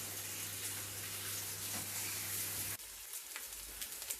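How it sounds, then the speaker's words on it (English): Homemade bacon sizzling in a frying pan: a quiet, steady crackling hiss with soft pops that continues right through, with a slightly thinner tone toward the end. "So here we are cooking in the pan."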